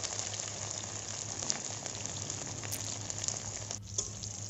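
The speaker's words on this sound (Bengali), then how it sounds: "এটাকে তেলে দিয়ে বেশ ভালো করে কিন্তু ভেজে নিতে হবে।" Teasel gourd pieces frying in oil give a steady, fairly quiet sizzle with faint crackles and a brief stirring sound near the end.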